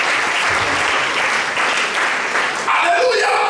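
A church congregation claps steadily through a Sunday worship service, the applause dense and sustained, with voices and cheers mixed into it.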